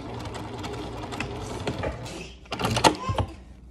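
A sewing machine back stitches the quarter-inch seam of a cloth face mask. A low mechanical hum runs first, then a short, louder burst of close, rapid stitching comes near the end.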